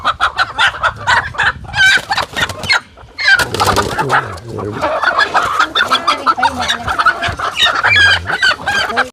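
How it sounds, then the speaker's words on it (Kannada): A flock of native country chickens clucks and squawks continuously up close, with roosters crowing loudly among the busy chatter of hens. "ರಿಯಲ್ ನಾಟಿ ಕೋಳಿ ಆಗಿರೋದ್ರಿಂದ ಕೀರ್ಚಾಟ ಕೂಗಾಟ ಸಹಜ ಇದು"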